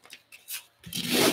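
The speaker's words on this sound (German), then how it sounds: "Und ich mache das wirklich mit einem 80er Schleifpapier." Coarse 80-grit sandpaper rubbing bubbles off a workpiece, a few short scratchy strokes and then a longer louder rasping pass, close by with no talk.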